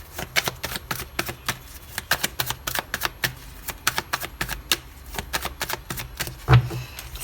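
Tarot cards are cut and shuffled by hand, a rapid run of crisp papery flicks and taps in uneven bursts, close and fairly quiet, with no voices.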